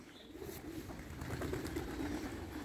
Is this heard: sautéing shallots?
no